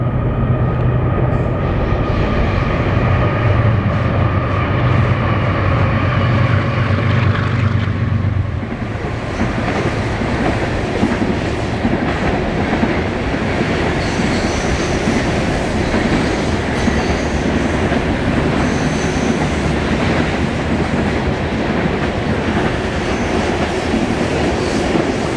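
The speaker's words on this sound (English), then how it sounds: "the same train passing through a series of tunnels that lie beneath" A freight train rumbles along steadily with rolling wheel clatter in the Columbia River Gorge, shifting to a more enclosed, echoing roar partway through as it moves through tunnels.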